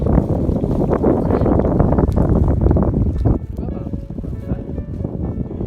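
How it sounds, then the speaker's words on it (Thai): Strong wind buffets the microphone at a seaside picnic spot, a loud, continuous roar that eases slightly after about three seconds and then keeps gusting. "วันนี้เราโชคไม่ดีอย่างนึงก็คือลมมันแรง"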